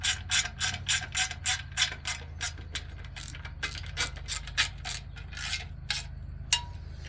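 Ratchet clicking steadily as bolts on a K24A engine build are snugged up, in rapid runs of pawl clicks with short pauses between bolts, close and clear over a low hum.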